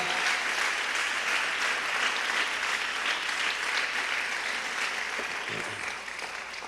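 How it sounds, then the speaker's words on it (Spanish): A church congregation applauds at a Sunday service, a dense, sustained wash of many hands clapping together that holds steady and then thins and fades toward the end. "Dale ese aplauso al Rey, hermano, por esa salvación que nos regalaron."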